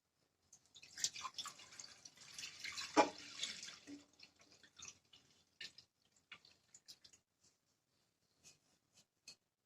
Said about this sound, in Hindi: अब इसका हम खोया बनाने के लिए कढ़ाई में इसे डाल देते हैं।